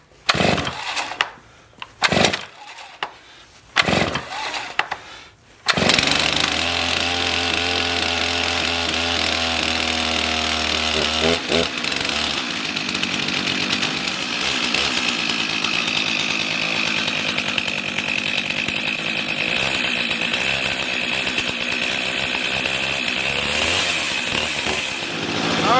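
A Stihl MS 391 chainsaw with a 25-inch bar, set outside: a few short sputtering bursts, then the engine catches and runs loud and steady at a constant pitch, close by, with no talking.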